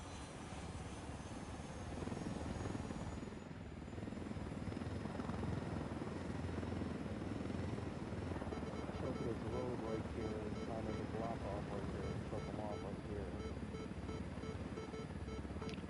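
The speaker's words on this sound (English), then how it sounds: "I'm gonna see if I can call in a Unidad chopper." A military helicopter chopper arrives in a tactical shooter game on PS5, its steady rotor thrum building and holding loud throughout, with players talking over it.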